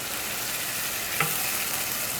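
Sofrito sizzling steadily in a pan for yellow rice with Vienna sausages, a constant close frying hiss with one brief louder crackle midway, no voices.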